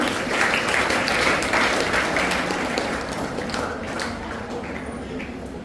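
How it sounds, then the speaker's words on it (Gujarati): Applause for students who placed first to third in a school class ranking at a farewell event, a dense, steady clapping from a crowd lasting throughout and easing slightly toward the end. "તેમને તાળીઓના ગડગડાટથી વધાવશો"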